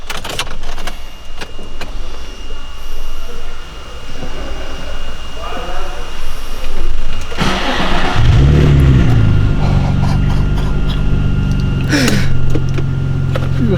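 A Nissan 350Z with a new exhaust line starting up, a crank and catch followed by loud, deep revving that swells and drops, with someone talking over the car before and during the revs.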